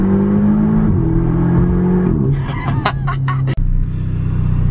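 An Audi TTS engine idles with a steady drone, then revs, ending in a burst of sharp crackles and pops and a brief cutout before settling back to idle. The car has an idle control valve problem. No talking is heard.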